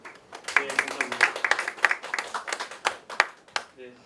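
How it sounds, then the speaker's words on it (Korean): An audience at a real estate finance policy seminar claps for a lawyer who has just presented, with scattered, uneven hand claps rising and falling over a few seconds while a voice talks over them. "두 번째 주제 시간인 대토보상 리츠 활성화를 위한 제도 개선 방안에 관하여 발표하신 이석 변호사님께 다시 한번 박수 부탁드립니다"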